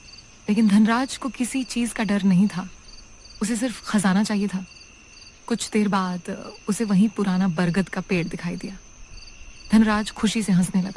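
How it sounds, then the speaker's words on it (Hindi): Steady, high-pitched cricket chirping in a forest at night runs throughout as a constant background, while someone narrates in Hindi in the foreground with short pauses. "जंगल में झींगुरों और उल्लुओं की डरावनी आवाजें गूंज रही थी।"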